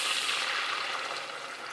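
Water, about a liter, pours steadily into a cooking pot while making chicken biryani, a continuous close hiss-like splash with no talk.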